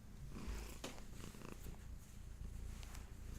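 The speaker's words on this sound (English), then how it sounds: "You've got your purrs" A cat purring up close, a soft continuous rumbling drone with faint breathy snorts, quiet and alone.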